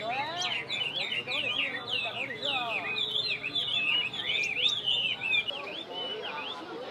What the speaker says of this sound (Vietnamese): Đây thì đa số là chim mi thôi, ngoài ra thì không có con chim gì khác đâu.